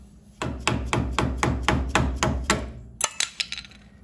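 A hammer strikes a board laid against the brake drum of a 1988-1998 Chevy OBS truck. About eight steady, evenly spaced thuds ring out loudly, then a quicker, sharper cluster of lighter taps follows.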